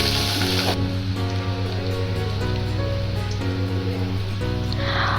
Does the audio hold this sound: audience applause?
no